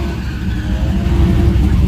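Stick-shift street car engine revving at a small-tire drag racing event, a rough, continuous mid-range roar that swells slightly toward the end, with crowd noise underneath.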